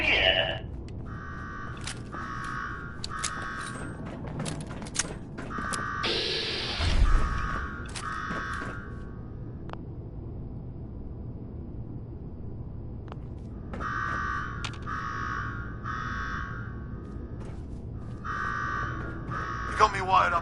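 An alarm buzzer in Fallout 4 sounds in repeated bursts of short, evenly spaced electronic blasts, pausing in the middle and then resuming, with game characters talking in between and a low mechanical hum underneath.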